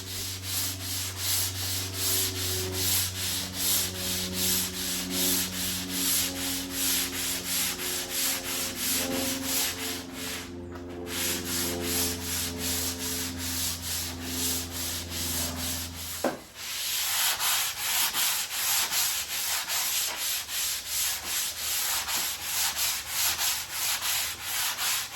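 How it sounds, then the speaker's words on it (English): Hand sanding of a wooden sailboat whisker pole with sanding blocks cut from floor sanding belts produces a steady, rhythmic back-and-forth scraping rub, close and continuous, over a low background hum that drops away near the end. "I made sanding blocks from floor sanding belts. These did a great job with the final shaping and smoothing process."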